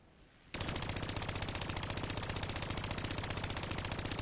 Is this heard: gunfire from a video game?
yes